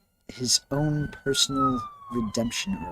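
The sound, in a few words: sirens in the background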